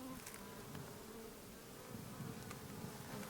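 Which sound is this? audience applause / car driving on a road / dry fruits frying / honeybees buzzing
honeybees buzzing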